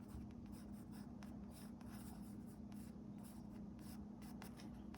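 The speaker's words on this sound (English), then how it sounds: "And again, using one of my watercolor pencils." Steady scratchy strokes of a watercolor pencil on drawing paper while sketching a fashion figure, continuous soft rubbing close by with no talk.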